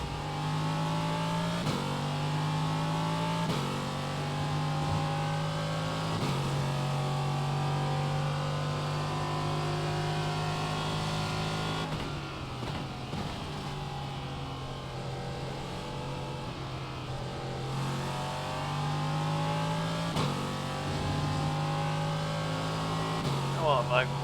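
A Ligier JS P320 LMP3 race car at Mugello, heard from on board, holds a loud engine drone that repeatedly revs up and drops as it shifts and brakes, with a steady rhythm of rising pitch sweeps.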